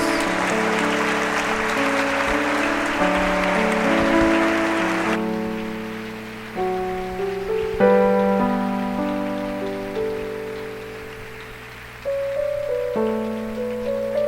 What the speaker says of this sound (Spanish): Denle una ofrenda de palmas al Rey de Reyes